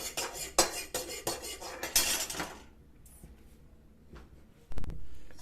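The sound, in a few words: serving rice and meat onto a plate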